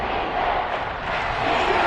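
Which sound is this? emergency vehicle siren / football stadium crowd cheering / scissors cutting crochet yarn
football stadium crowd cheering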